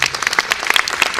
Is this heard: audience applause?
yes